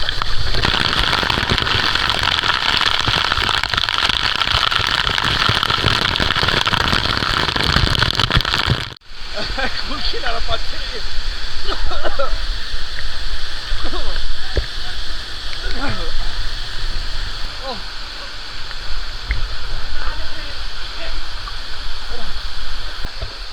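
Bilashi waterfall, a dense, steady roar of falling water close by that cuts out briefly and resumes, with voices of visitors mixed in.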